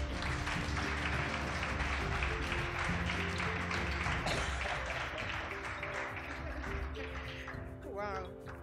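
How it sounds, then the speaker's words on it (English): Audience applause at a UJ Confucius Institute seminar on space cooperation: a dense, steady wash of clapping that holds for several seconds, then thins and tapers near the end, with voices mixed in. "Please join me with another round of applause, please."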